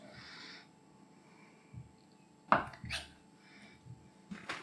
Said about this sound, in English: I'm going to compromise and cut it into small blocks